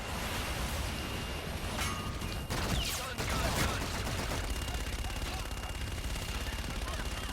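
Rapid machine gun fire from an aircraft strafing on a gun run rattles continuously through a dense, noisy battle soundscape, with a sharper burst around the middle and a voice talking over it.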